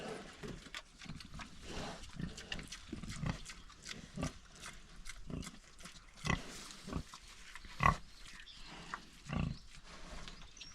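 Pigs grunt and snort in bursts at close range on a farm, with several louder grunts standing out from a steady low background.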